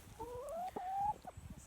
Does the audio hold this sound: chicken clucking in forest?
yes